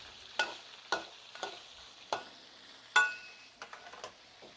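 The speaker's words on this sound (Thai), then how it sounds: "ทอดกระดูกซี่โครงหมูค่ะพี่น้อง" Pork rib bones fry in hot oil while a utensil scrapes and stirs the pan in repeated sharp strokes, about eight or nine over a quiet, steady sizzle, close by with no voices.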